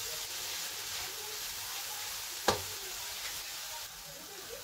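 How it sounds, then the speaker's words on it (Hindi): Vegetables for chicken noodles stir-frying over a full flame, giving a steady broadband sizzle with one sharp clink partway through, heard alone without talk. "फुल फ्लेम पे हम इसको फ्राई करेंगे।"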